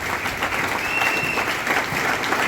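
A church congregation at a Sunday service claps in a dense, steady burst of applause that fills the room for a couple of seconds without pause.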